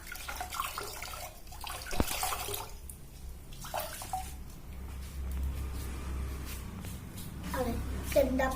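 Dirty water running and splashing during household mopping and cleaning, a continuous close wash of water with shuffling and clatter, under intermittent talk.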